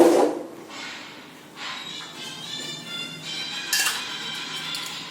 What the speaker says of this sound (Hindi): अब हम इसी में डाल देंगे शुगर, एक चम्मच शुगर